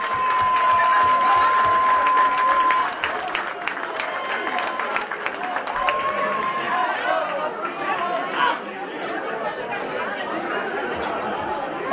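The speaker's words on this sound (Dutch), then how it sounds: "geef ze nog een daverend applaus." An audience at a children's carnival prince and princess show breaks into sustained applause, with steady clapping, chatter and light cheering filling the room throughout.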